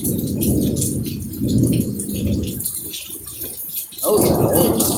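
Heavy pouring rain in a thunderstorm, a dense close roar of rainfall with rolling thunder rumbles that fade and surge again, loud and continuous.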